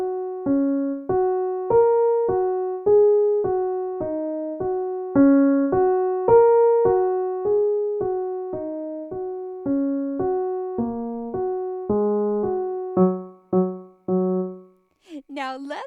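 A simple beginner rote piano piece on the black keys, played alone as a steady run of single notes and small groups of notes in an even rhythm for about fourteen seconds, close and clear, ending with a brief unclear sound.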